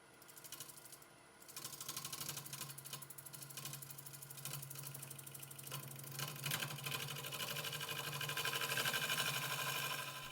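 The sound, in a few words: wood lathe turning yew bowl with carbide cutter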